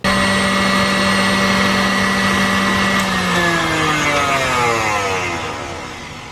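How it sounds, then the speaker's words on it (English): An electric hand mixer or whisk whirs loudly and steadily while whipping room-temperature chickpea brine into foam for vegan sugar cookies, its pitch falling toward the end. "here's the whisk. Got the whisk."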